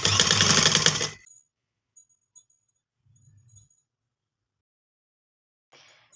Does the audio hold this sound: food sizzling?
no